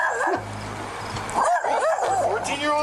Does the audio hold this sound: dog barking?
yes